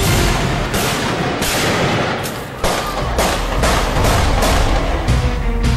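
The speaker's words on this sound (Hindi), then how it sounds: "पेरिस शहर के डी पेंटिन इलाके में गोलियों की तड़तड़ाहट गूंज उठी" Gunfire during a shootout in the Pantin area of Paris: a rapid series of about eight sharp, loud shots, evenly spaced, each trailing into a reverberant echo off surrounding buildings.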